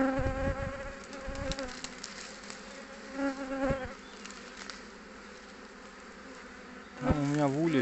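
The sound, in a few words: honeybee swarm buzzing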